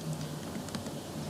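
A command is typed on a computer keyboard, giving faint light key taps at an uneven pace over a low steady background hum, with no voices.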